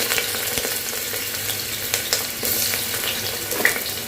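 Onions sizzling and frying in hot oil in a pressure cooker, a steady crackling hiss with occasional stirring clinks and scrapes, close and fairly quiet, no voices.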